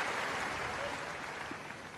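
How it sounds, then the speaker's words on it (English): Tennis crowd at the Australian Open quarterfinal between Federer and Berdych roaring and applauding after a fast serve, a dense, continuous wall of cheering and clapping that fades a little toward the end. "The roar of the crowd as that rocketed to its mark."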